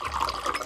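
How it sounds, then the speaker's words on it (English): Water pours steadily into bottles in a brief, continuous gurgling rush, close and fairly loud with no talk. "So we're going to pour that same amount of water into each of the bottles."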